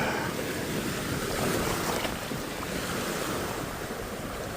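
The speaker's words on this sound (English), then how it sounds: "I'm only in the river, mate, but I've got waves that's like you're in the sea." Wind-driven waves splash and churn on a river, the Ebro or Segre, rough as the sea; a loud, continuous wash of surf buffeted by wind noise on the microphone.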